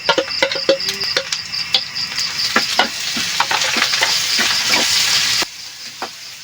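Garlic, onion and shrimp paste sautéing loudly in a pan, a bright steady sizzle punctuated by sharp clacks of a spatula, easing to a quieter hiss near the end.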